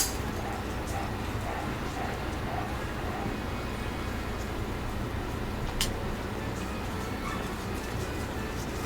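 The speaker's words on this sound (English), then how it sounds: "Noisy puppies." Puppies yip and bark in the video game Ys X. The small barks come in scattered bursts over a busy, constant background of game ambience, moderately loud and with no clear pause.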